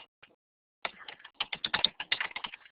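Computer keyboard keys tapped near and clear: two isolated clicks, then a short quick burst of typing clatter at a steady rhythm, with no voices.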